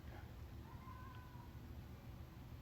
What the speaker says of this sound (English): basically, it's a damn cat